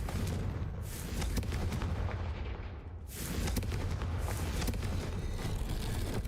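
Booming blasts from the Confringo blasting spell in Hogwarts Legacy, with rapid gunfire-like cracks and rumbling detonations running nearly continuously. One brief lull comes midway, then another round of heavy, close explosions.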